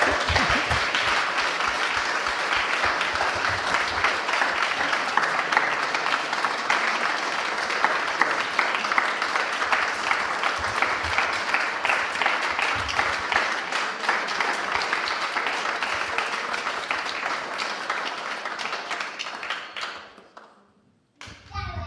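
At a farewell gathering, an audience claps long and heartily after a Sahaj music performance, a dense, close, rhythmic patter of hands with occasional taps and thumps that gradually thins and stops near the end, with scattered voices, including a child's, underneath.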